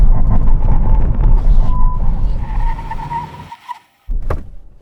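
A Honda N car brakes hard from 60 mph, its tyres skidding loudly across several seconds before a sudden cutoff, followed by a brief sharp burst of noise.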